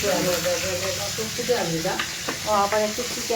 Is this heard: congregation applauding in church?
no